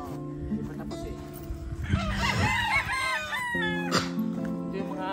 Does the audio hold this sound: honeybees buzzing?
no